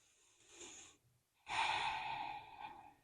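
Slow, audible breaths during a yoga pose, a soft inhale followed by a longer, louder exhale, close and alone.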